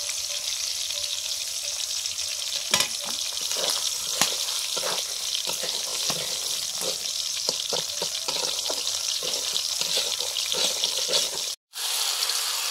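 Fried mung dal tipped into a pot of ginger paste for cauliflower-and-potato khichuri, giving a steady sizzling, frying hiss with small clicks of stirring, close and continuous, with a brief dropout near the end.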